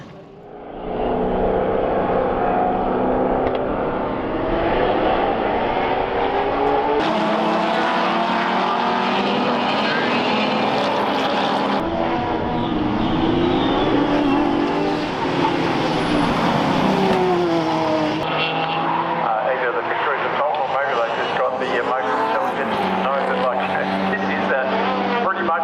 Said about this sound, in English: The race would be restarted behind the safety car